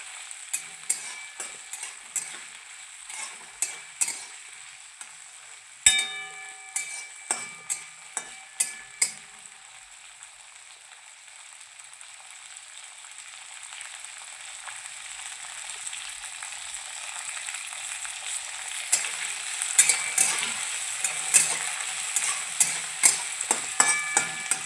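Potatoes, green chili and peas frying in oil in a pan, a steady soft sizzle broken by sharp stirring clatters and scrapes, with spitting louder toward the end.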